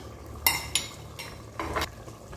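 A ladle clinks and scrapes a few times against a pot while stirring a spicy bean stew with harissa, peppers and spices, in short, sharp knocks at close range.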